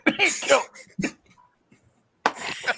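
A person coughs a few times in quick rough bursts, close up, with a short quiet gap before another harsh burst.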